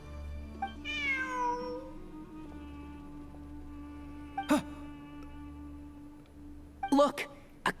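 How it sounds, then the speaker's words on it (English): A cat in Genshin Impact gives a clear drawn-out meow, then a few short mewing chirps, close and alone over a low steady game-ambience hum. "Look, a cat."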